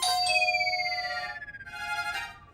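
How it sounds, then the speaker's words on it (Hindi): A doorbell chimes two tones, ding then dong, bright and clear, followed by a second ringing chime as the tones fade. "बज गई घंटी"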